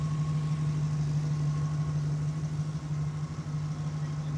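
A 1975 Pontiac Trans Am restomod with an LS3 V8 idling, a steady, even low hum with a smooth, constant tone, heard alone at moderate level.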